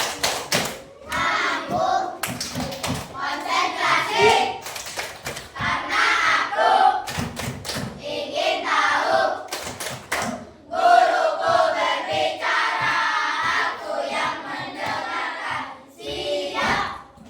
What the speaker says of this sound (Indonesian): ayo tepuk konsentrasi